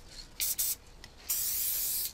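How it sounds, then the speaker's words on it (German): Gold spray paint can sprayed for graffiti, a few short bursts of close hissing spray followed by one longer continuous hiss, loud and alone. "So, auf der Gold, gucken wir mal, wie es da sprüht."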